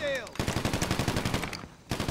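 Rapid automatic gunfire rattles in a first-person shootout inside a house in GTA, a tight burst of loud repeated shots that pauses briefly and then resumes, with a voice heard at the start.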